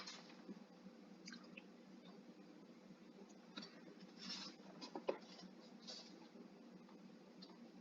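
A pen scratches and taps on paper close by in a quiet room, in short irregular strokes that are soft and light.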